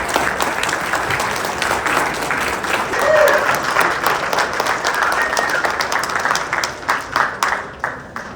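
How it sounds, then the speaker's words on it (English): A reception crowd applauds the Honorable Bill Blair for his service; sustained, fairly loud clapping fills the room for several seconds and then thins into a few separate, distinct claps, with some murmuring underneath. "I'd like everyone to give him applause for all his service"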